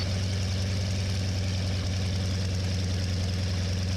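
Three Yak-style piston aircraft in formation rumble with a steady, droning engine note and a strong low throb, continuous and fairly close, with no speech.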